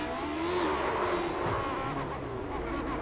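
IndyCar race car engine in a sim-racing oval event at Phoenix, a steady loud engine drone with a brief stumble as the driver misses a gear shift, engine note dipping then carrying on.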